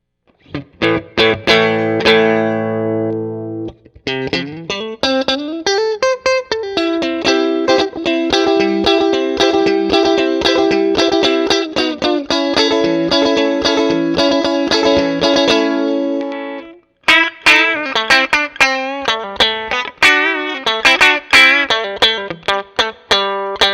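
A 1995 left-handed Fender Stratocaster electric guitar playing alone with a bright, clean-to-crunchy tone: quick picked notes, sustained chords and a slide, with a short pause near the end.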